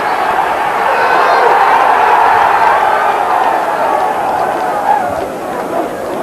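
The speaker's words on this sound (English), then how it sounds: "the crowd on this side are on their feet applauding what they thought was a goal." Football crowd in a 1991 Tottenham Hotspur match on its feet applauding a near goal; a broad, loud roar of cheering and clapping from the stands, swelling then easing slightly.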